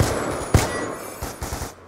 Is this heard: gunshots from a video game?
yes